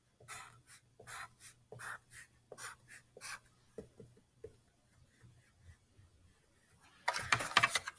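A marker scratches out a series of short strokes dividing a hand-drawn tape diagram into 12 equal parts, each line a brief rhythmic squeak, fairly quiet and close, with a louder scratchy burst near the end.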